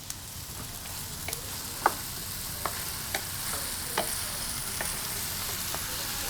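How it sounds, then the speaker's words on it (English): Hunt's Petite diced tomatoes hit a hot pan and sizzle and fry steadily while being stirred. The cooking noise is close, with a few light clicks of a utensil against the pan. "we're gonna add our Hunt's Petite diced tomato"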